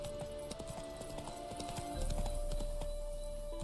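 Horse hooves trot in a steady clip-clop rhythm across the ground in The Witcher 3, moderately close, with a constant ambient tone beneath and a slight rise in background rumble midway.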